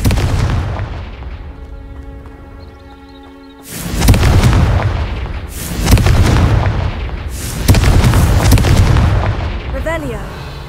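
Confringo, a fire blast spell from the Hogwarts Legacy video game, goes off in three heavy booming bursts a couple of seconds apart. Each loud explosive blast rumbles and fades, following a quieter stretch of tonal game ambience.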